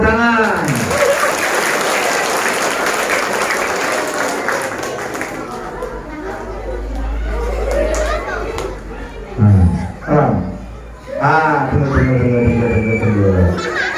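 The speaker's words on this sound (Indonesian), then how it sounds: "Oke, tepuk tangan." Children and teachers at an elementary school clap together in a dense, steady burst of applause that fades after several seconds into children's chatter and nearby voices talking.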